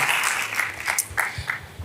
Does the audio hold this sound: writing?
no